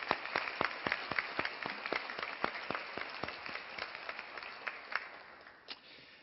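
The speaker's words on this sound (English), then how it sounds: "a round of applause for the people who made it possible for you to graduate today" At a 2017 law school commencement, the audience gives a round of applause for the graduates' families, many hands clapping in a rapid, fairly even rhythm that thins and fades toward the end, heard from a distance.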